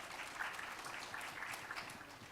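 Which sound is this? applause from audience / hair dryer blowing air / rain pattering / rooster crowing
applause from audience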